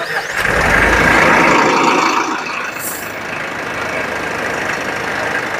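A Tata Ultra T.18 truck engine rumbles and idles nearby, swelling briefly louder at the start before settling into a steady, moderate drone.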